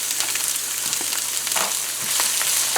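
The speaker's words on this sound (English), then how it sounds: "So you're going to fry up your onions for a little bit, 30 seconds or so." Onions and carrot fry in a pan for Spanish rice with a steady, close, bright sizzle and small crackling pops, with no voices over it.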